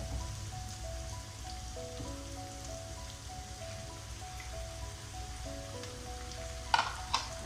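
Tomatoes hit a pan already sizzling with ginger, garlic and green chilli, giving a soft, steady hiss of frying. A faint tune plays in the background and a brief clatter comes near the end.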